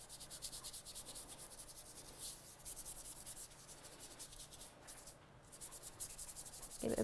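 Stamped paper is rubbed hard to burnish it, a steady close scratchy friction that keeps going for the whole stretch at an even, quiet level with no talking.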